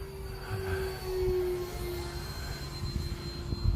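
RC jet plane circles overhead with its landing gear coming down, giving a sustained whining jet roar with a steady high tone, moderately loud and fairly close, changing slightly in pitch as it passes, with no talking.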